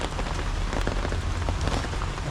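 Steady rain falls in a dense, even hiss with scattered drops pattering on a surface, loud and close throughout, with no voices.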